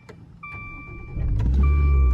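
Maserati Ghibli with about 20,000 miles starting up: a short electric whir and chime come first, then the engine cranks and catches into a rising, loud, steady idle.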